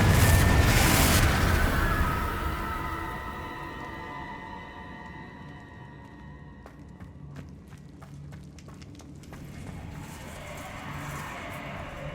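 A Confringo spell explosion in Hogwarts Legacy bursts with a loud boom at the start, then fades into a long, low rumble with scattered faint crackles and thuds.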